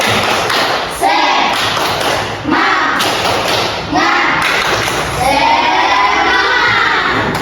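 A classroom of pupils performs a rhythmic clapping chant, loud close claps and thumps in bursts alongside children's shouted voices, with several groups of beats separated by short pauses.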